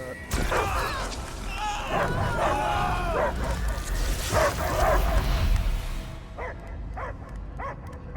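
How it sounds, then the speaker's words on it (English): A dog barks and yips in the Guardians of the Galaxy video game, loud and agitated within a dense, noisy scene, with voices talking over the barking. "I hear only barking."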